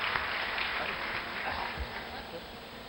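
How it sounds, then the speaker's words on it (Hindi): A crowd at a kavi sammelan poetry gathering during the 2016 Simhastha Kumbh in Ujjain breaks into loud, dense applause to welcome poet Radhakant Pandey. The clapping holds steady and close for about three seconds. "भाई राधाकांत पांडे को आपकी एक बार जोरदार तालियों से आमंत्रित करें।"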